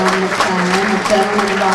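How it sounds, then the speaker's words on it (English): Guests at a black tie charity gala applaud a presenting sponsor, brisk clapping mixed with a voice speaking over it. "how about a round of applause for our presenting sponsor, the Hope Chambers Company"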